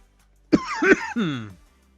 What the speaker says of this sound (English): I'm alright except for this cough.